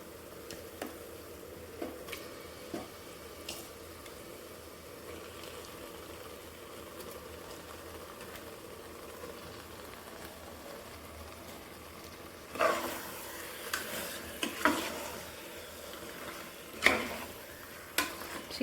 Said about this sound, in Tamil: சிக்கன் சேர்த்து நல்லா கிளறி விட்டுக்குங்க.